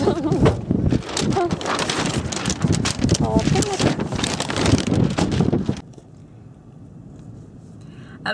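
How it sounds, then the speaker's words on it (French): Strong wind on Big Island, Hawaii, buffets the microphone with loud roaring gusts under a voice, then drops sharply to a muffled low rumble as she shelters in a car. "Le bruit qu'on entend c'est le vent."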